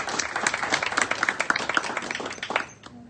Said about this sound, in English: Please give Kezia a round of applause.